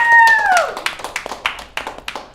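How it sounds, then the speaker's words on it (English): A few people clap in a studio during a live results special. Sharp, scattered claps fall in a loose rhythm after a brief tonal sweep. "Clap for these guys if you're here in the studio."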